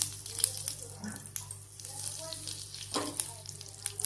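Asafoetida sizzles and crackles in half a cup of hot oil in a kadhai, a steady frying hiss with a soft stirring scrape partway through.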